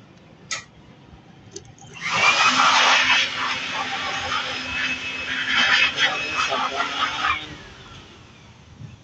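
An electric fan switched on during a capacitor test, a steady broadband whir with a low hum that starts abruptly and runs for several seconds before cutting off, preceded by a few faint clicks.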